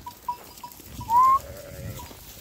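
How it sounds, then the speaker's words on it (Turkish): A sheep from a grazing flock gives one clear, fairly loud bleat in an open field at sunrise during a dry season, with faint calls and soft rustling around it. "Koyunlar"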